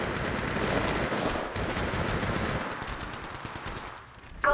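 Rapid automatic gunfire in the battle royale game Apex Legends, a dense, continuous rattle of shots that holds steady for several seconds, then dips briefly before a sharp final burst.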